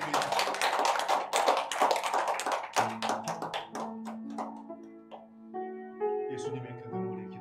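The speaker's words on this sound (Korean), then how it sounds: "하나님께 영광의 박수 올려드립니다" A church congregation applauding during Sunday worship, a dense sustained wash of many hands clapping that fades out as a sung note and accompanying tones take over.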